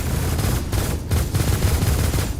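Rapid automatic gunfire in the space game Star Citizen, loud and close, bursts of shots in quick succession with brief pauses between volleys and no talking.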